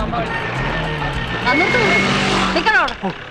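A troubled car's engine rumbles low as someone tries to start it during a Malayalam film comedy scene, with steady engine noise running under loud overlapping dialogue throughout.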